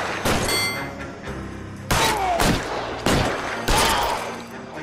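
Gunfire in an LA Noire shootout: four loud, sharp shots spaced roughly a second apart, each with a bright crack and a decaying tail, over a low rumbling background.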